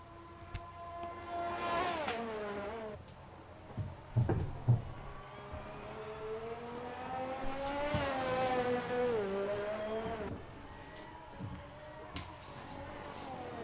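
Formula 1 car lapping Monza in the F1 video game, Italian Grand Prix eSports race: the engine note climbs and drops through repeated gear changes and braking into the chicanes, loud and close, with a brief squeal in between.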